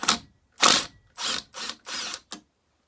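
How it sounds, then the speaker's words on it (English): Impact wrench loosening the flywheel nut on a chainsaw with points ignition, heard as five loud, close ratcheting bursts of varying length with short pauses between them, and no talk. "Grab my impact right here and my screwdriver."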